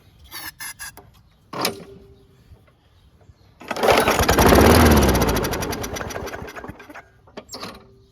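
A WeedEater 21-inch push lawn mower engine, a curb find, sputters with a few short pull-start attempts, then catches and runs loud and close for several seconds, revving steadily before dying back to brief rattles.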